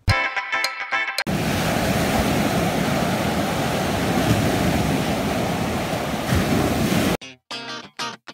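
Waves wash on a beach in a continuous broad roar of surf mixed with wind, loud and close, cut in between short bursts of other sound at the start and end.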